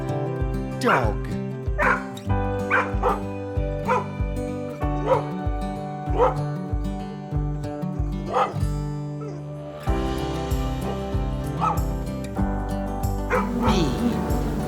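A dog barks and yips repeatedly in a fairly steady rhythm, close and loud, with whimpering tones between barks and an added layer of sound in the later part.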